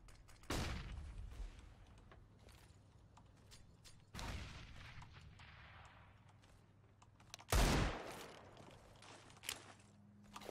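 Video game grenade and flashbang explosions burst out in three sharp, loud booms spaced a few seconds apart, each decaying into a rumbling tail, with a lighter pop near the end.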